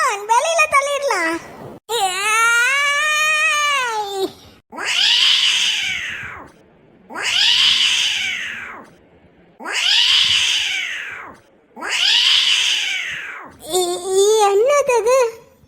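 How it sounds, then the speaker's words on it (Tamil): A cartoon cat meows loudly five times in a steady rhythm, each cry a drawn-out wail with pauses between, framed by short babbling, crying-like vocal sounds at the start and end. "என்னது பூனை சத்தம் கேக்கு?"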